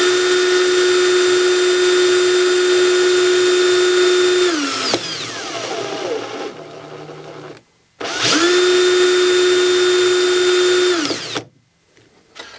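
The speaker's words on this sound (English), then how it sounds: "looking at the tip of that bit, it's spinning, really close to dead center on axis" A Bosch 18V DDS181 cordless drill spins a bit at high speed in two loud bursts, each with a steady whine that winds down as the trigger is released, separated by brief quiet.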